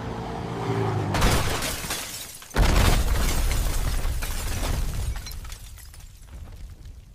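An AI-generated car crash: a sharp impact burst of shattering and crunching debris, followed by a sustained loud rumble that slowly fades, with no talking.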